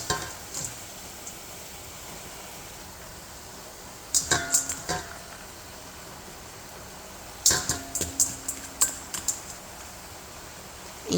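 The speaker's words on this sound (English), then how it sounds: "And you're gonna stir this around, you're gonna mix it around." Cabbage and corned beef stirred in a pot, Jamaican style, with two clusters of sharp spoon scrapes and knocks against the pot over a low steady sizzle, close and clear, with no talking.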